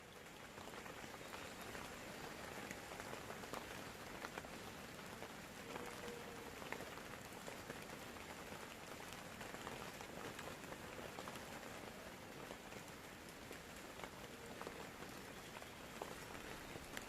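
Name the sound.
rain falling on canvas tent at night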